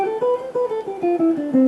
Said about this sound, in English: Here's an A natural minor scale